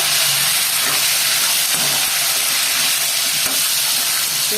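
Bajji chillies frying in a masala curry, a loud continuous sizzle and hiss of oil and steam that stays even throughout, with no voices.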